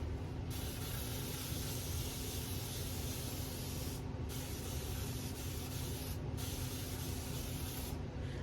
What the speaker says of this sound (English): when you spray it, it like turns into a continuous mist a little bit